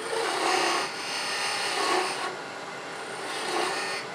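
A wood lathe tool cuts a parallel tenon on a turned Christmas tree ornament, making a loud, close, rough rasping hiss that swells and eases in a few passes as the tool engages the spinning wood.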